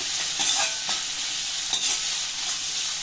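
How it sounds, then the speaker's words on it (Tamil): Shallots sautéing in a hot pan, a steady bright sizzle with a few scraping stirs of a spoon near the start and middle, close and fairly loud with no voices. "எல்லாத்தையும் நல்லா வதக்கிக்கிறோம் பச்சை வாசம் போகிற அளவுக்கு"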